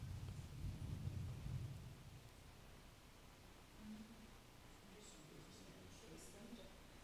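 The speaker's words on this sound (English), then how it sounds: "Thunder and lightning." Thunder rumbles deep and loud for about two seconds during a Sunday Holy Communion service at St David's Church, Airmyn, then fades into a quieter, noisy room background.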